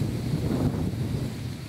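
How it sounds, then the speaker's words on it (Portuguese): Wind blows across an open rural farmstead, a steady low rushing roar buffeting close to the microphone, continuous and fairly loud with no voices. "Aí o vento bate e ela aparece lá."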